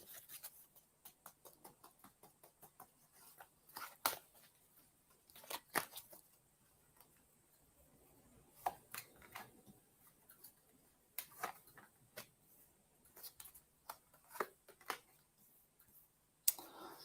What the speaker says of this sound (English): And I'm just shuffling some cards